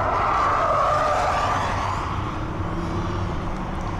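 Volvo V60 Polestar performance wagon on a race track, its engine note loud and continuous as it pulls hard, with a steady broadband roar and rising tone throughout, no voices.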